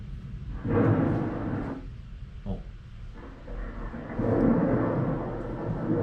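A thunderstorm sound effect plays in a tabletop role-playing session, with low rumbling swells that rise and fade as a deep roll of thunder under a steady wash of noise.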